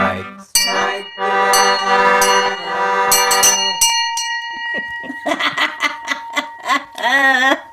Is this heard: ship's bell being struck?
yes